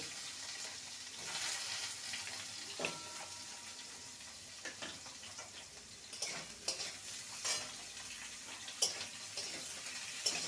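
Potato and eggplant frying in a pan over a high gas flame give a steady sizzle with scattered crackles and pops, and occasional stirring clicks close by.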